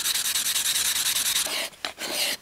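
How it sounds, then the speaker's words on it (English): Wood shavings mixed with casein glue are squished and packed together by hand, a rapid rhythmic rubbing and scraping that pauses and then resumes in a few rougher strokes. "Squish this. Pack those wood shavings together."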